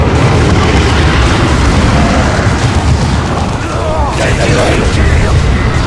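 Grenade explosions and battle noise from the video game Dawn of War 2, a loud, dense continuous rumble of booms and bursts with voices and radio chatter mixed in throughout.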